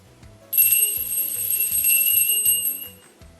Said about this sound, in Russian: Колокольчик наш звенит